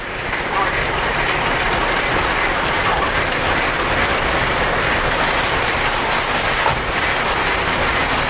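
A Polar Express model passenger train runs on the lower level on track number 2 of a model railroad, with a continuous loud rumble and a rapid clickety-clack of small wheels.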